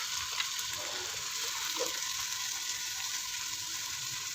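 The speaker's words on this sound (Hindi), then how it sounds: "चिकन को हमने 6 से 7 मिनट तक भूनना है ताकि चिकन की स्मेल ख़त्म हो जाए" Chicken fries in a pan with a constant, even sizzle and faint occasional stirring; no talking.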